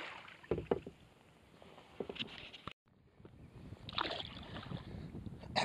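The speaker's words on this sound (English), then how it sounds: "I'm actually paddling up against a pretty strong current right now." A kayak paddled upstream against a strong current in a shallow canal on a foggy day, giving soft intermittent splashes and paddle strokes over light wind noise, with a brief dropout midway.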